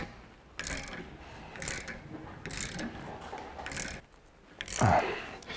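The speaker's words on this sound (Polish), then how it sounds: "widzicie jaka ładna grzechotka neon" A ratchet wrench clicks in a few short, close bursts while working on the rear suspension subframe bushings of a BMW E46. Someone talks quietly between the bursts.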